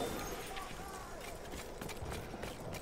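Horse hooves clip-clop at a quick pace in a video game while someone talks over them.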